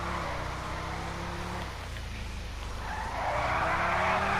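A Sherp ATV drifting in GTA Online, its tires skidding and squealing loudly over a continuous engine drone that swells again near the end.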